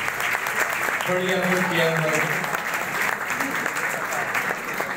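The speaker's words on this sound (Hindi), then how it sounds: "जोरदार तालियां जी टीम के लिए बजा दीजिएगा" Audience clapping for a team on a stage show, fairly thin and steady applause running throughout with voices speaking over it.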